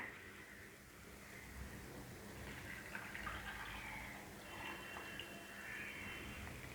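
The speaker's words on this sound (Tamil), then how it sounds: "இதே கப்பில் மூணு கப்பு தண்ணி சேர்த்துக்கிறேன்" Water pours steadily into a cooking pot holding jaggery for moong dal payasam, a continuous soft splashing and trickling that runs for several seconds at moderate, even loudness with no talking.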